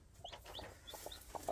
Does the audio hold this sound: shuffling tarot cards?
no